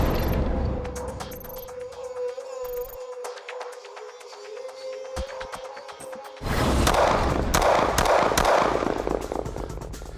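Several gunshots fired at a target during a self-defense tactical reload drill, heard as a burst of loud sharp reports in quick succession over a roomy outdoor background, followed by a steady noisy stretch.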